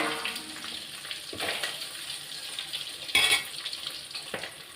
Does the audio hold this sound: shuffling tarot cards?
no